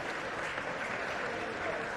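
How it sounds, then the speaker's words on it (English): Applause from the Lincoln City bench at an under-19 youth football match, steady clapping running through the whole moment at moderate level, fairly close. "Applause from the Lincoln bench"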